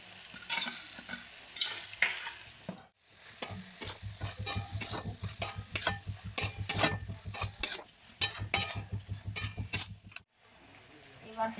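Boiled cabbage and potato tossed into spiced masala in a pan, crackling and sizzling as a spoon stirs and scrapes in quick rhythmic strokes, up close with a short pause midway.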